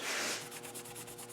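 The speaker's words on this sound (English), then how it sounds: "See, that's how I'm going to clean the heads. Just a little scrubbing like this." Brief, close scrubbing of a GM 4.3L intake manifold from an Astro or Safari van, cleaned with lacquer thinner: a steady, loud rubbing swish that softens slightly into short repeated strokes.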